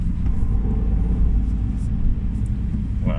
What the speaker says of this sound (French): Vous pouvez écouter le bruit dans l'habitacle.